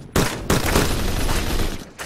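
Rapid, loud bursts of gunfire from a one-tap gun in the video game Phantom Forces, three close volleys with brief gaps between them, heard without speech.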